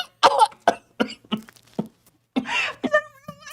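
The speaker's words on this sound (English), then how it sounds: "I've got a really bad cough." Several sharp, hacking coughs in bursts, close and fairly loud, with a rough, raspy vocal sound near the end.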